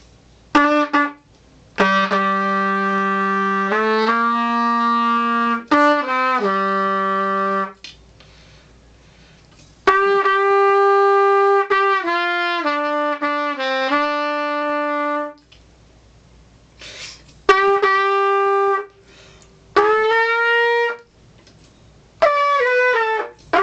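A short solo trumpet melody, Rising Sun, of sustained notes separated by brief pauses, played close and fairly loud with no talking.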